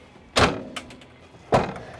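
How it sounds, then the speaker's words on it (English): A fabric screen door on a 2023 Dazzle camper van rolling up, heard as two distinct whooshing, rattling bursts about a second apart, close and fairly loud with quiet between them. "that screen door just rolls up, latch D-rings into place"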